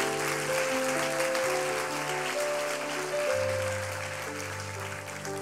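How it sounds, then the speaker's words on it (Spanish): A church congregation applauds during a Spanish-language service, steady clapping layered over sustained organ or keyboard chords that shift pitch partway through, moderately loud and without speech. "Démosle un aplauso fuerte a Jesús."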